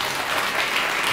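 Studio audience applause at a late-night talk show, a brief, even burst of many hands clapping, heard alone without speech.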